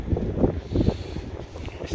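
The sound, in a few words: strong wind at a beach campsite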